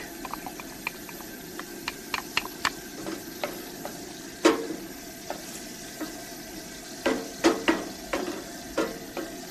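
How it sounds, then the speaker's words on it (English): Onions and garlic frying in oil in a pan, with scattered sharp crackles and pops over a faint sizzle and a few louder spatters toward the end. "we will add some onions into the oil"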